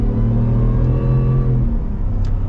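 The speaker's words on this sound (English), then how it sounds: "Let's actually pop it into the manual mode. Get some downshifts." Shelby F-150 Off-Road pickup engine revving hard through manual-mode downshifts, a loud, steady, close rumbling roar with rising and falling pitch and no talk over it.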